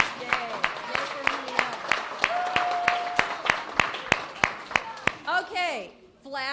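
Children clap together in a fast, steady rhythm of about a dozen sharp claps at a school community reading event, with children's cheering voices over them, ending in excited shouting.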